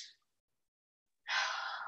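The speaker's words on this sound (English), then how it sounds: "A couple of active deep breaths before you find your natural breathing cycle." Deep breaths during a Kundalini yoga class: one exhale tails off into silence, then another long, audible breath rushes out close to the microphone.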